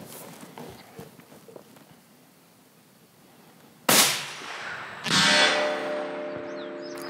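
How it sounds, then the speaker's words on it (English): Two rifle shots fired at long range during a South Texas whitetail hunt crack out loud and sharp about a second apart, each trailing off in a short rolling echo over quiet outdoor background. "here we go, Alan. 2 shots"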